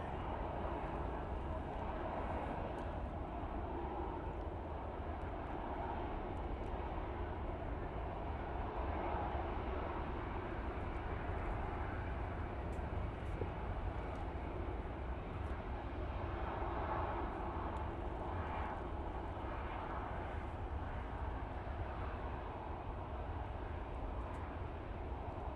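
At Manchester Airport on a windy day, a plane's engines rumble as it lands, a faint, steady roar held at a distance for the whole stretch with no voices over it.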